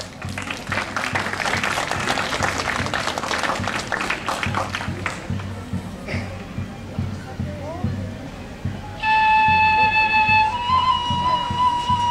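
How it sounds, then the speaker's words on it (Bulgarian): Audience applause for a young performer at a music competition in Varna, Bulgaria: steady crowd clapping with hall murmur throughout, then a loud, sustained musical tone rising over the noise near the end. "Аплодисменти за Йоан."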